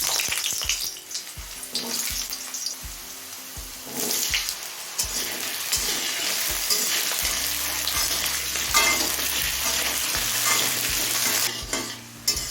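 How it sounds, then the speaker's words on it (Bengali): Potatoes frying in hot mustard oil over high flame: a dense, loud sizzle throughout, broken by repeated rhythmic spatula scrapes and knocks against the pan. "তেলটা হাই ফ্লেমে গরম করে নিলাম এখন আলুগুলো ভেজে নেবে"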